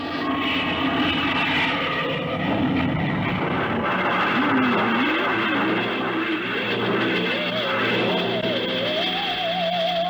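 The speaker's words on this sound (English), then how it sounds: "Clear for takeoff, Charlie?" A radio-drama aircraft takeoff effect builds as a loud, sustained engine roar with a rising, wavering whine climbing in pitch toward the end, heard alone without voices.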